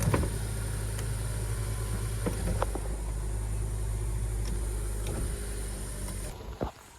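A Nissan Almera engine idles steadily while warming up, a constant low rumble close by with a few faint clicks and knocks over it before it tails off near the end.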